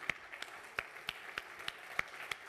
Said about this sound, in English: I invite you to please to applaud to these guys